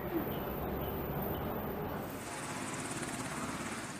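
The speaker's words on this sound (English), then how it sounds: "Other necessary training includes casualty evacuation from a ship by helicopter." Steady rotor and engine drone of a helicopter at sea near an aircraft carrier, fairly distant and constant, with a slight shift in tone midway.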